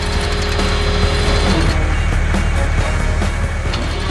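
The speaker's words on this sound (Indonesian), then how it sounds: "truk sampah pun bersiap pergi" Mechanical clanking and whirring of an animated garbage truck preparing to leave a cleared tunnel hole in a 3D construction cartoon, a loud continuous grinding rattle with gear-like ticking, no voices.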